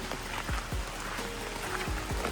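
Rain falling steadily on a hiking trail outside Ljubljana, a continuous soft hiss with scattered nearby drops and patters, with no talking.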